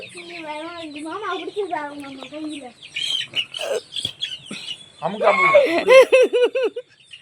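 Native country chicken chicks peeping in shrill, rapid chirps close by, mixed with people talking and laughing.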